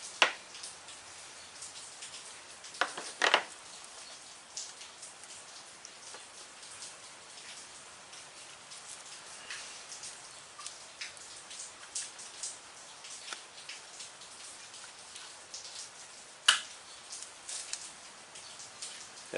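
Steady rain falling outdoors, a soft continuous patter with scattered sharper drop hits, heard from indoors while a string trimmer carburetor is being worked on.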